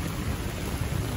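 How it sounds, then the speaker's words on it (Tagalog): Heavy typhoon rain pours down in Metro Manila as a dense, unbroken roar of water, loud and steady throughout with no voices. "sobrang lakas ng ulan dito sa Metro Manila"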